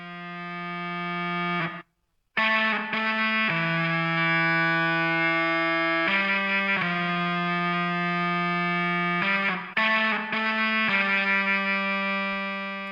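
Synth bass line from the VB-Rowdy plugin, shaped by distortion and echo effects and backing a melody in a remake of a song's chorus. Sustained, buzzy harmonic tones hold steady with a few brief cuts, including one near-silent gap, and no voices.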